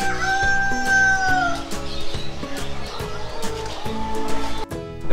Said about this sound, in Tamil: கோழி காடக்கோழி.